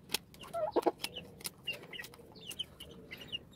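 Hungry chickens clucking up close, a busy run of short overlapping clucks and calls from several birds with no talk over them.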